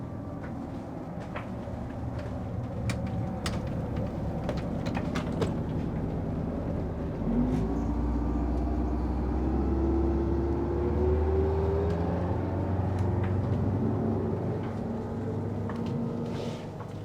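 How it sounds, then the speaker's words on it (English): Inside a Prevost Liberty motor coach rolling down the road: a steady low road rumble and engine drone, with a rising whine building midway, occasional clicks and rattles from the cabin, no talk. "show them what it's like going down the road in the back of the coach"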